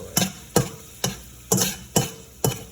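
Metal spatula scraping the bottom of a metal pot while frying spicy bacon and egg fried rice, six sharp, evenly spaced scrapes about half a second apart, close and clear with no talk.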